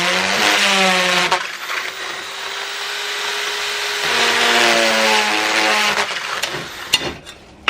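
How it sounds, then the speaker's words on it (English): A power drill boring into the ceramic core of a car's diesel particulate filter, two long loud whining runs with a steady tone, separated by a brief pause, ending with a few sharp knocks. "just keep drilling"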